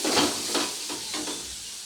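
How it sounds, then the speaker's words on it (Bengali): Spiced masala for a rui fish and tomato curry sizzles in a pan as it is stirred, making a steady close hiss with a few soft stirring strokes. "তো মশলাটা খুব ভালোভাবে কষে এসেছে।"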